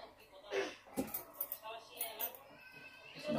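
A pot lid clatters onto a pot in a home kitchen while cooking salmon and broccoli, with several light metallic clinks and knocks at close range as someone talks.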